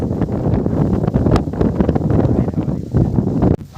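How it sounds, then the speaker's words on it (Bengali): Strong wind blowing outdoors beside trees, a loud, continuous roaring buffet across the microphone with gusty swells and rustling throughout. "হাওয়াটা সলিড দিচ্ছে"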